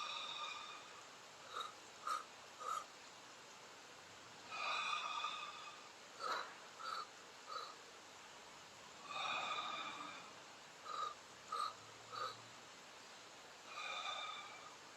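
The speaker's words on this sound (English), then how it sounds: "you're going to breathe in 3 breaths in one breath" Slow, deliberate breaths in and out during a calm breathing exercise, each breath a soft airy rush of a second or two, with short sharp sniffs between them, repeating in a loose rhythm close to the listener.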